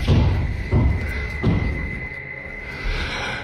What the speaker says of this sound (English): Some banging is heard coming from the basement.